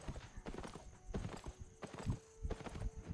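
Horse hooves clip-clop at a steady riding gait in the online game Albion Online, with regular close hoofbeats and a brief whinny, no talking.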